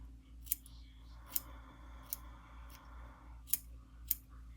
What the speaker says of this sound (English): cut the hair.